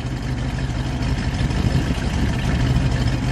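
A 1959 Plymouth Sport Fury with a 318 V8 idling: a steady, low, throbbing rumble, close and fairly loud, with no voices over it.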